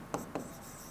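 Two short scratchy strokes of a pen or marker on a writing surface during a Hindi reasoning class, close and fairly faint, with a steady quiet room hiss between them.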